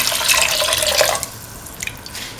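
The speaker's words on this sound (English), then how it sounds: "Pour in 250 ml of water." Water pours into a cooking pan of lentil mixture in a steady splashing stream for about a second, then stops, leaving a few drips and light trickles.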